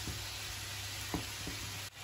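Bacon bits, onions and potatoes fry together in a pan for tartiflette, producing a quiet, even sizzle with a couple of soft stirring knocks and a low steady hum behind it.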